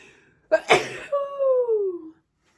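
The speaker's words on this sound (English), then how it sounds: "I'm going to sneeze" A single sharp sneeze bursts out, followed by a drawn-out, falling vocal groan trailing off into silence.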